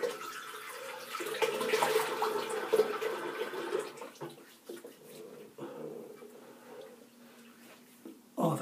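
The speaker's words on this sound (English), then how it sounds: "Just going to rinse my face off" Tap water runs into a sink while a face is rinsed after shaving, a soft splashing stream with small bursts and pauses, fairly quiet.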